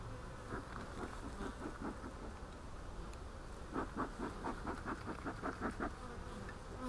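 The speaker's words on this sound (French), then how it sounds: "les abeilles elles viennent ça" A steady hum of buzzing bees fills the air, with denser swells of close buzzing midway, over a soft background rumble.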